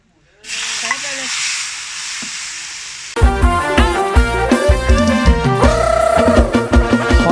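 Silkworm pupae stir-roasting in a pan give a steady close hiss and sizzle for a few seconds before loud music takes over.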